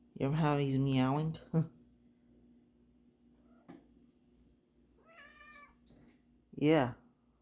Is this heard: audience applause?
no